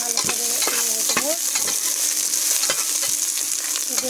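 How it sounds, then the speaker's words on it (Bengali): Cinnamon sticks and bay leaves fry in oil in a wok, a close, steady sizzle punctuated by several sharp scraping strokes of a spatula as they are stirred. "কড়াইয়ে আমি 3-4টে দারচিনি দিয়ে দিলাম আর 2টো তেজপাতা দিয়ে দিলাম। দিয়ে ভালো করে নেড়ে দেবো।"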